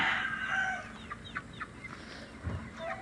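A chicken clucking and calling close by in a series of short, sharp notes, with a louder burst at the start and quieter calls after, faint background noise and no talk.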